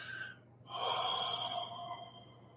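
A deep breath drawn in and then a long, slow, relaxed exhale during a guided relaxation, close and clear over a faint steady background hum.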